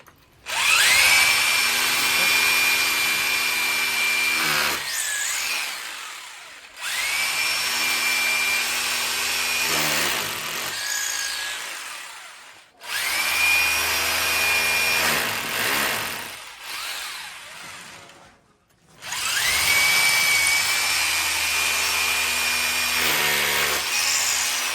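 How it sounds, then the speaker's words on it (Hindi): A power drill fitted with a thick bit bores into a wall while a TV is being mounted, running in four long, loud bursts separated by short pauses. "दोबारा से हमको मोटा वाला बीट से जो है ना ड्रिल करना होगा इस जगह पे"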